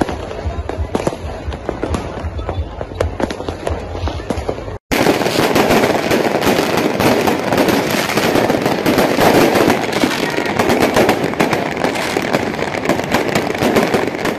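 New Year's Eve fireworks in Makassar, Indonesia crackle and pop continuously in dense, rapid bursts, loud and sustained, with a brief cut partway through before the barrage resumes.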